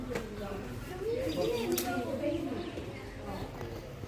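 Pigeons coo softly near a field by the gate of the Sixmile Saibaba temple, a few low burbling calls over quiet background with a voice talking.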